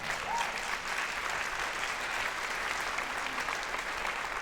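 An audience at a talk on the just transition with PepsiCo's C.D. Glin claps in a steady, moderately quiet round of applause that stays even throughout.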